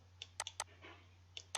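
Quiet clicks of a computer mouse while working in AutoCAD, a few sharp isolated taps spaced irregularly over a steady low electrical hum.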